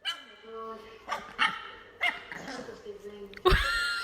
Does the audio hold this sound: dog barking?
yes